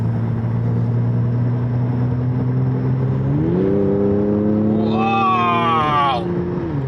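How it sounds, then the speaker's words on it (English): A Mercedes-Benz C450 AMG pulls hard under acceleration, its engine note rising in steps from a steady low drone to a loud, climbing roar, heard close and continuous from inside the car. "under acceleration, that just bangs and pops"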